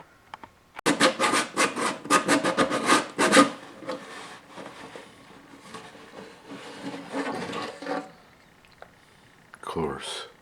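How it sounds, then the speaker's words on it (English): Sandpaper rubbing burrs off a part during work on a Lyon and Healy Terz harp, a dense run of quick rasping strokes that then settles into lighter, steadier scrubbing before stopping, loud and close with no talk over it. "Of course, sandpaper. Getting the burrs off."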